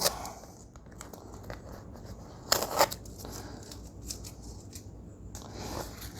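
Tape peeled off a surface during a heat-gun job, giving soft tearing and crinkling with a sharper rip burst midway, close and without talk.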